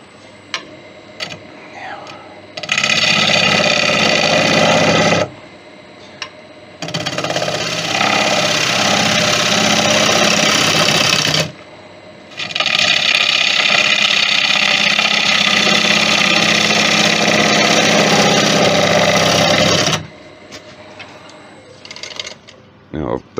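A gouge cuts a cherry bowl spinning on a wood lathe, giving loud, sustained rough cutting passes broken by short pauses, with the lathe humming quietly between cuts.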